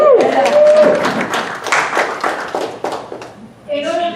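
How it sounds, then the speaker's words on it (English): An audience at a conference breaks into a burst of hand clapping for a couple of seconds before it trails off, with voices talking just before and after. "Give him a hand"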